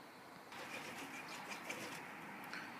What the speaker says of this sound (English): Whoa, couple of pigeons there.